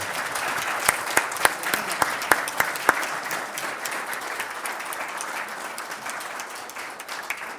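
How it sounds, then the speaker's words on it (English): Conference audience in the Flock to Fedora 2026 plenary room applauding award winners, a sustained steady ovation with a few sharp, distinct claps standing out near the front early on. "One last round of applause for our award winners this year."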